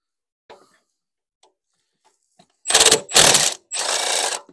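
Power tool with a socket fitted rattling a bolt loose on a Ford Fiesta 1.0 EcoBoost, three close, loud ratcheting bursts in quick succession after a few faint clicks.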